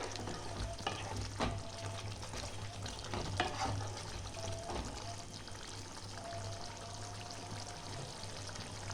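Kashmiri chicken kanti with fenugreek leaves simmering and sizzling in a pan, a steady close bubbling fry with light stirring and clinks, and a constant low hum underneath.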